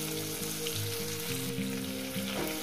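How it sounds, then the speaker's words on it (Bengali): Masala paste for a Bengali tengra fish curry, with mustard, fries steadily in a pan over a medium flame. A continuous close sizzle with a faint rhythmic stirring pulse runs throughout and stays fairly quiet, with no voices. "মশলাটাকে ভালো করে কষিয়ে নেব"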